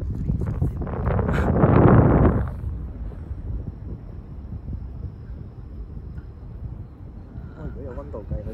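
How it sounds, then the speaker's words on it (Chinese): Strong wind on a mountain peak at night, Red Incense Burner Peak, gusts hard against the microphone, with a loud roaring buffet in the first few seconds before settling into a lower, steady rush of air. "好大风啊"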